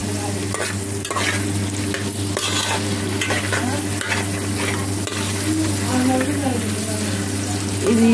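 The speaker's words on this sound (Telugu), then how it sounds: "ఇది ఇలా ఏగుతూ ఉండాలి." Food frying in a pan while being stirred, a steady sizzle with scraping stir strokes throughout, close and fairly loud over a constant low hum.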